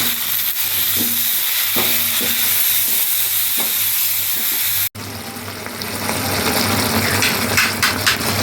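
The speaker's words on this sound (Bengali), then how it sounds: "মশলাটা খুব ভালো করে আমি কষিয়ে নিয়েছি" Whole spices and ginger garlic paste stir-fried with onion, tomato and potato for a Bengali mackerel curry, a loud steady sizzle with rhythmic spatula scraping, cut briefly midway before the frying resumes, close and bright.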